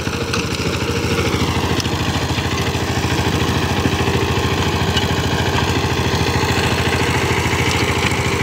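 A small Yanmar hand tractor engine with a rotavator idles steadily with a fast, even chugging throb, close and continuous throughout, no voices.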